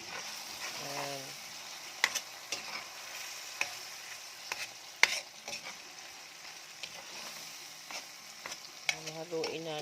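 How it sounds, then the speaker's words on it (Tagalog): Fried pork belly being stirred in a pan for pinakbet, a soft continuous sizzle broken by irregular clinks and scrapes of the utensil, close by, with a voice speaking briefly at the start and end. "Haluin natin."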